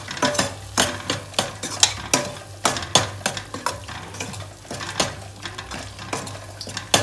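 Masala with turmeric, salt and garam masala is stirred in a pan for dal, producing repeated loud scraping and clattering strokes in an irregular rhythm over a low frying sizzle.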